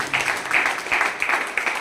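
An audience at an RCM seminar in Surat applauds loudly, the clapping swelling in rhythmic, pulsing waves over a short burst.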